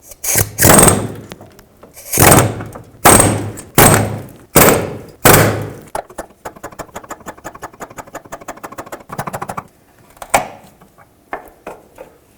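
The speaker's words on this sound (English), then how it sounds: "now what I'm going to try and do is either break this bolt off or spin it off with an air chisel." An air chisel hammers at a rusted bolt on the EVAP vent solenoid of a 1997–2001 Lexus ES300. Loud bursts of rapid pneumatic hammering come in short runs, followed by lighter rattling and a few scattered knocks. No one speaks.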